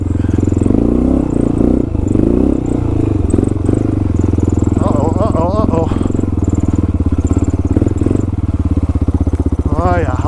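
Dirt motorcycle engine revving loud and close as the rider works through mud and pulls a small wheelie, with throttle surges and a voice speaking over the motor.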